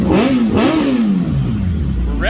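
A Suzuki Hayabusa engine on a new MaxxECU install revs in a couple of quick rising blips, then settles to a lower note, loud and close.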